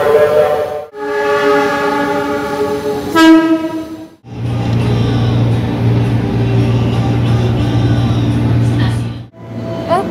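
A KRL commuter train at Manggarai station sounds two loud horn blasts, then a steady, close rumble of the train running through the platform.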